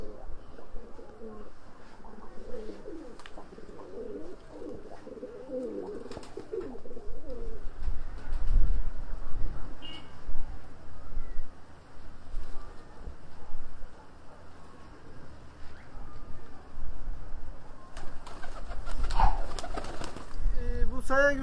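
Black-bibbed fancy pigeons in a loft, giving repeated low throaty coos in the first seconds, then scattered softer cooing with wing and shuffling noises and occasional voices in the background.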